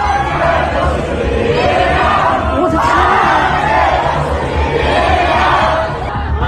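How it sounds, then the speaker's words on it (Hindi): A large protest crowd marches through Chengdu, its massed voices chanting slogans and singing together in a loud, continuous roar that stays dense and steady from start to finish. "जहां बड़ी संख्या में लोगों की भीड़ मार्च कर रही है और नारेबाजी कर रही है, साथ में गाना भी गा रही है"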